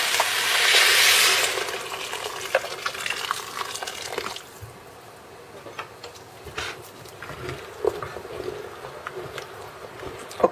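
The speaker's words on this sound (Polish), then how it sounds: "I teraz już zalewam wodą ciepłą." Warm water pours into a pot of Polish fish soup, a loud rushing splash at first that settles into quieter bubbling and clinking, close by.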